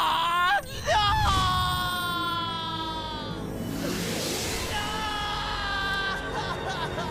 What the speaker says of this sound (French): Quand on entend ces cris déchirants,